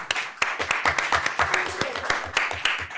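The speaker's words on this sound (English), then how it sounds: "We'll clap it up for her anyway." A school board meeting audience applauds, a steady run of hand claps filling the room for about three seconds with some sharp individual claps standing out.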